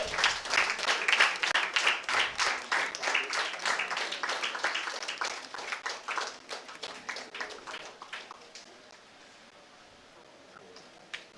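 Enthusiastic applause from a crowd of college students at a ceremony, dense and steady at first, then thinning out to scattered claps before fading to quiet.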